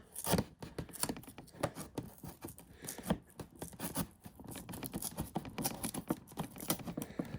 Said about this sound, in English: I'm gonna use a little, like a pocket knife, instead of using those thumb tabs because I don't like destroying the box.